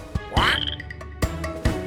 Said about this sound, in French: La grenouille, grenouille, grenouille.